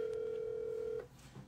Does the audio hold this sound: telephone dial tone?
yes